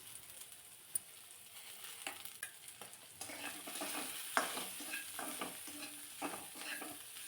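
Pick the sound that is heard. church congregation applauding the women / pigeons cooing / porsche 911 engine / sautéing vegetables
sautéing vegetables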